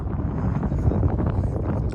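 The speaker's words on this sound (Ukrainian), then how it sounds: "Вітер неймовірний" Strong gusty wind buffets the microphone with a constant low roar and rumble, loud and unbroken throughout.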